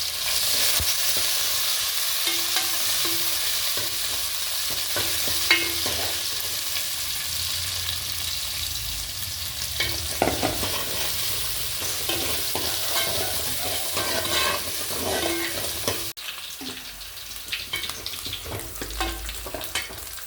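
Steady sizzling of food frying in hot oil, with occasional stirring clinks and scrapes throughout, close and continuous with no talking.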